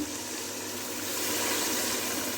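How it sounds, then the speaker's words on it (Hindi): Chicken broth (yakhni) poured into a pulao pot, a steady, rushing gush of liquid, close and continuous throughout with no talking. "अब मैं इसमें यखनी डालूंगी।"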